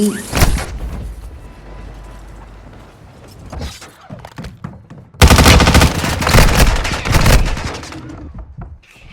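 Machine-gun fire from Call of Duty Warzone Mobile rattles in uneven bursts, with a scattered opening volley and then a loud, dense sustained spray later on, with no voices.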